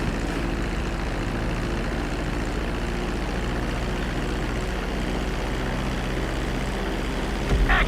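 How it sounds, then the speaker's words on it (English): A propeller airplane drones steadily on its landing approach to a runway in GTA 5, a loud, continuous engine hum holding for several seconds with a brief bump near the end, no voices. "Start reducing the plane's altitude gradually so you're just above the runway as you approach."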